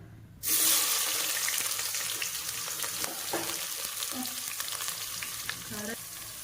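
Onions hit hot oil for veg biryani with a sudden loud sizzle that settles into a steady crackling fry, with a few stirring scrapes of the pan along the way.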